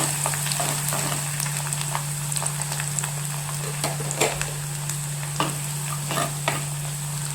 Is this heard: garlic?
yes